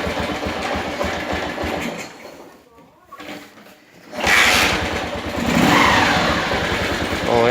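A motorcycle fitted with a sport air filter, the original filter left in place, runs its engine, then revs up loudly after a brief quieter dip. A person talks over it.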